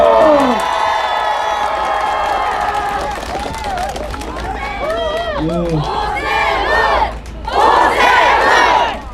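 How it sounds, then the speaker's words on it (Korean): A crowd at a street campaign rally for a candidate at Dongwon Market in Jungnang-gu, Seoul, cheers and shouts loudly throughout, with an amplified voice calling out over the continuous roar. "여러분 박수 한번 부탁드립니다"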